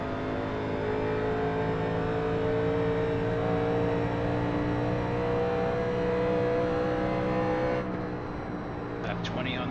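A 1987 NASCAR stock car engine roars steadily at high revs around Kentucky in iRacing, a constant loud drone with layered harmonics that drops slightly near the end.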